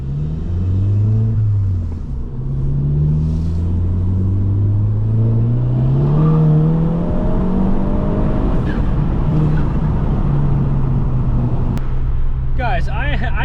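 A Stage 2 tuned MK7 Volkswagen GTI accelerates hard with traction control off, rising pitch sweeps through gear shifts from second gear, loud and close, with brief talk over the roar.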